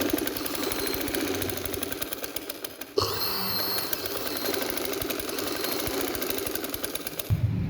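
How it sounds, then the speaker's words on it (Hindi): Sewing machine stitching steadily along the fabric edge of a panelled frock, a continuous close mechanical whir with rapid rhythmic needle pulses and a brief pause near the middle, no talking. "और अब हम इसको इस पे इस तरह से कुछ सिलाई मारेंगे, बिल्कुल इसको कपड़े के बराबर रखकर।"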